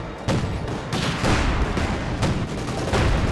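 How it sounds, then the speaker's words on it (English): Tank battle in the World War II strategy game Company of Heroes 2 with an SU-85 and Panzer IV trading shots, heavy booming cannon blasts and bursts of gunfire crowding each other, loud and dense across a few seconds. "SU-85 quickly rolls in, tries to get off a few hits there"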